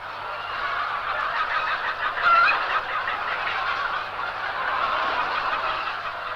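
A large crowd of poultry housed in farm buildings at the 1988 Tomilino poultry factory keeps up a dense, continuous clucking and gobbling chorus, steady and fairly loud throughout with no voices.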